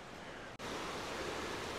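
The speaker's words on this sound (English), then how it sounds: "It's quite a fast flowing little river." Fast-flowing little river, swollen beyond a brook after Storm Claudia rainfall, rushing as a steady broadband wash close by, with one brief dropout.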